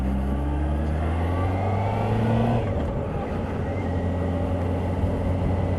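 A Honda CBF600SA motorcycle is ridden and manoeuvred on a road, its engine giving a steady, fairly close drone that swells slightly and then eases as the bike moves along.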